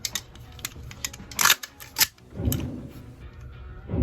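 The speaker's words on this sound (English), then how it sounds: "and then you're going to lock the bolt to the rear." Metallic clicks and a sharp snap from an AR-15 rifle as its bolt is pulled back and locked to the rear, a few close, crisp mechanical clacks followed by a lower sliding rattle.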